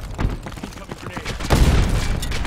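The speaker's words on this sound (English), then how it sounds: "Incoming grenade." Loud game combat with a heavy boom of a grenade explosion and bursts of gunfire, rumbling and dense, with a voice speaking over the action.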